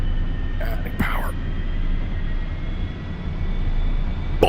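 An A-4E jet engine in DCS World roars as a continuous, loud, broadband drone during an airshow practice run, with brief snatches of a voice over the engine noise.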